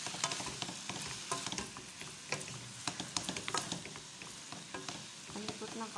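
Chop suey vegetables seasoned with black pepper, salt and Maggi cubes are stirred in a frying pan, giving a steady sizzle broken by frequent irregular scrapes and clicks of the spatula, with no talking.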